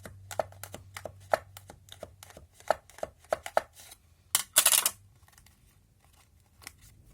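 A bone folder is run inside a folded paper Halloween treat box to press the glued parts together, giving soft taps and scrapes in an irregular rhythm, then a brief louder rustle of paper and a quiet tail.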